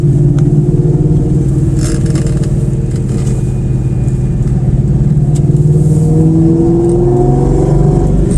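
Cobra sports car engine droning loudly and steadily up close as the driver drops back to second gear for a tight turn on a winding fall mountain road, the pitch shifting and rising slightly over several seconds.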